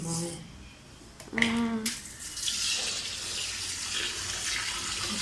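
Tap water runs continuously in a home kitchen while basmati rice is being washed for biryani, a steady hiss that starts softly and grows fuller, with brief speech and a short tonal sound near the start.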